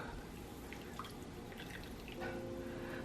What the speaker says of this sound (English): Now I'm going to add a 12-ounce can of evaporated milk.